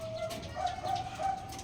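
Pigeons coo close by in soft, repeated throaty calls, several overlapping murmurs against a quiet background with no talking.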